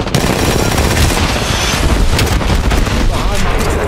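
Dense, loud automatic weapon fire rattles continuously through a match of the battle royale shooter Apex Legends, with heavy booms mixed in and a player's voice talking over the shooting.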